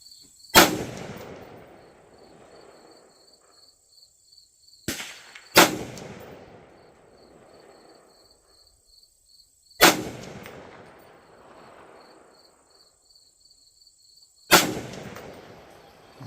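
Rifle shots from 7.62x39 Sellier & Bellot ammunition at a range: five sharp, loud reports spaced several seconds apart, each with a short echoing tail, over a steady insect chirp.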